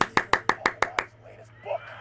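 About six or seven sharp, evenly spaced claps ring out in quick succession in Alan Wake 2, close and fairly loud, then stop, followed by a few faint noises.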